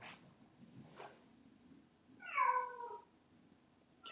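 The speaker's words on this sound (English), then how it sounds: "Oh, my cat, Callie. You might be able to hear her." Callie, a pet cat, lets out a single clear meow at close range, with faint rustling before it and no talking.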